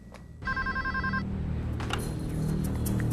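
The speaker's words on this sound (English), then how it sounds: "The phone rings." A telephone rings with a short repeated electronic trill, loud and close, sounding in one burst of about a second over a low background hum.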